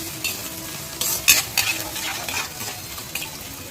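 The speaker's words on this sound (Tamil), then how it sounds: "இது நல்லா ஃப்ரை ஆகட்டும். நல்லா ஃப்ரை பண்ணிக்கோங்க." Onions sizzle steadily in a hot pan while a utensil scrapes and stirs them in a few quick strokes, close up.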